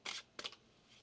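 A deck of tarot cards is shuffled close up in two quick, crisp riffles, soft and papery, each lasting a fraction of a second with quiet in between.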